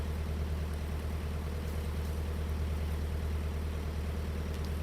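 A low, steady narrowboat engine drone with a rhythmic throb, continuous and unchanging, heard from close by without voices.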